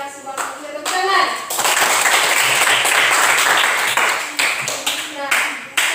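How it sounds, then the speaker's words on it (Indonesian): Indoor applause in a classroom or meeting hall, a dense burst of many hands clapping for several seconds between short stretches of talk, loud and close. "Tepuk tangan."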